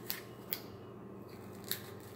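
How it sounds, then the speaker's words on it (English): A small blade snipping tangled debris and hair from under a Roomba robot vacuum: three sharp, isolated clicks of cutting spread over a couple of seconds against faint room hiss. "So you're going to just take it and run it through here, and it's going to cut all those little pieces of schmutz and crud"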